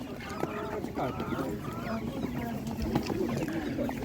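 Several chickens at a village animal market in Otyniia cluck and chatter continuously at close range, overlapping calls against a busy background hum.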